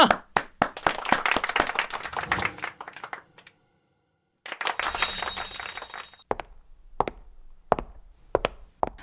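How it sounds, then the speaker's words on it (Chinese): Office staff welcome a new assistant with a few sharp, scattered claps that pause briefly and then pick up again as separate, sparse hand claps rather than a full ovation. "大家掌声欢迎！"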